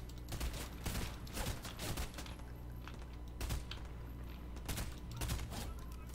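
Rapid bursts of gunfire crackle in Fortnite, clustered volleys with short pauses, fairly quiet and sharp.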